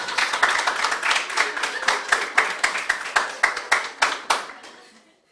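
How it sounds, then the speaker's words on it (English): Audience at an independence debate competition clapping for young debaters, a run of sharp individual claps at a quick, slightly uneven rhythm that fades out near the end. "let us clap for the young people."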